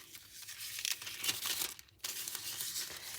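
A sheet of black foil being handled and crinkled, with a soft, close crackling and rustling that runs steadily for a few seconds, broken by one brief pause.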